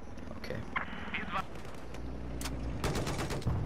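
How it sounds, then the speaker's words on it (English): Gunfire in the video game Battlepoop, with scattered shots and short bursts popping at moderate distance under game noise and a faint voice. "Who is shooting us?"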